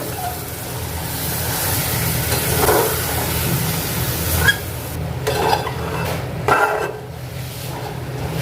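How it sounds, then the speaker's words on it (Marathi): Pureed tomato from two tomatoes sautéing in oil in a pan for butter chicken masala, a steady close sizzle and bubbling with occasional utensil clinks and scrapes, no talking. "ही प्युरी पण छान अशी ह्याला तेल सुटेपर्यंत आणखी परतवून घ्यायचं आहे।"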